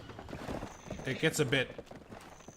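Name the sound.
horse hooves clip-clopping in Black Desert video game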